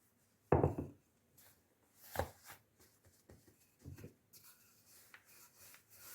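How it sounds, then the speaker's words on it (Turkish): Dough is rolled out on a floured counter. The clip holds soft, close rubbing and knocking sounds: a sharper thump at the start, then irregular faint rolls and scrapes. "hamurumuzu güzelce açıyoruz."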